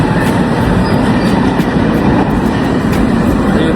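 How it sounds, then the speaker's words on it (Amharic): A train runs along the rails, its loud, steady rumble broken by a regular rhythmic clatter of wheels over track joints, heard from close by. "ባቡር ደስ አይልም?"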